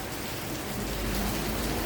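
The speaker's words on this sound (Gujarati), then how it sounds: "વરસાદ તો હજી રહ્યો જ ના" Steady, dense rainfall pouring down on surfaces on Girnar, a continuous hiss that swells slightly partway through, with no voices.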